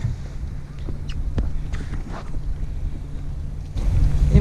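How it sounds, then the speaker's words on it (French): A small dinghy driven by a new, large outboard motor, heard as a steady low engine drone blended with wind buffeting the microphone and water rushing past, growing louder near the end. "on va y aller en annexe avec notre nouveau gros moteur"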